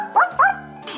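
A puppy yaps twice in quick succession, short bright barks close to the microphone, followed by a faint whimpering tail.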